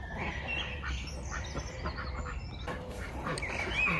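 Ducks quacking on a smallholding where the hens are laying early, several calls layered over steady outdoor background noise, fairly close, no talk.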